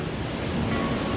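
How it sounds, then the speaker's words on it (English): Surf washing onto Bin Weston Beach on Catalina Island, a steady, soft, broadband rush of waves heard close by, with no voices over it. "Here I am, guys, Bin Weston Beach. Beautiful, lovely beach."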